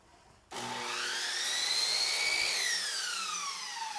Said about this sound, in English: we're going to set our miter saw to the left 45-degree miter angle and make our cut